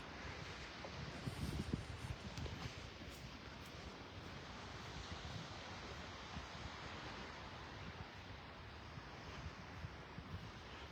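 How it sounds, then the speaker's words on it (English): Light breeze buffeting a camera microphone on a beach at Clam Pass in North Naples, Florida, a constant soft rumbling wind noise mixed with distant surf, briefly gustier early on, no voices. "I'm just using the camera mic, so you might hear a little wind every now and then, but it's just a very, very light breeze blowing."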